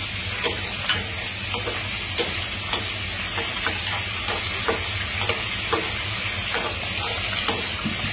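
Chopped garlic and green chillies fry in hot oil with a steady, close sizzle, broken by regular soft scrapes and taps of a stirring utensil against the pan, with no voices.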